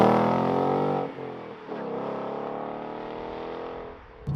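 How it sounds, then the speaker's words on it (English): A Ford Mustang GT V8 with its exhaust in track mode drones loudly and steadily, with brief dips and swells in the engine note as the throttle eases and comes back on. "put the exhaust into track mode"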